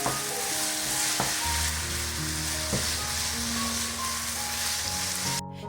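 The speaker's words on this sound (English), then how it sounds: "At this point, I'll add in my vegetable stock powder and I just keep stirring." Minced meat for chili con carne sizzles steadily in a pan as vegetable stock powder is stirred in, with a constant loud frying hiss and occasional scraping knocks of the spoon, no voices.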